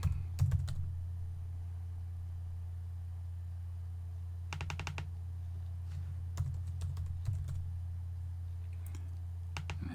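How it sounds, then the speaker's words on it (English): Keystrokes on a computer keyboard arrive in short separate bursts of a few quick clicks each, spaced by pauses over a steady low hum, close and fairly clear. "type Bluemix."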